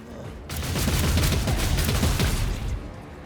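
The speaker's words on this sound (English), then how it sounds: "Followed up by shooting." Loud, dense gunfire bursts from the video game Warhammer 40,000: Rogue Trader, a rapid crackling fusillade sustained for about two seconds, then trailing off.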